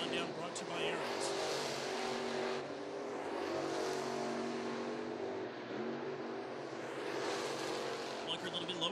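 Pro Late Model stock cars roar around an oval track during a feature race, engines droning loudly and rising as cars pass, under a commentator's voice.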